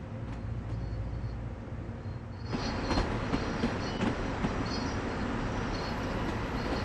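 A Long Island Rail Road M7 electric commuter train runs in a railway simulator, with a steady rumble that swells partway through, rhythmic wheel clacks over the rails and faint high squeals, and no voices.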